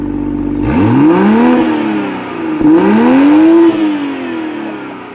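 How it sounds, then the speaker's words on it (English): A 2021 Toyota Supra GR A91 Edition in sport mode gives two strong revs from idle, each engine note rising and falling sharply, loud and close with no talk. "We'll let it idle in sport. Go ahead, give it a rev in sport."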